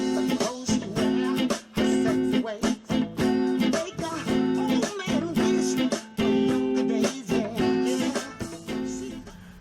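Guitar strums verse chords in a steady, funky rhythm of choppy, muted chord hits that is loud and close, with no talking over it.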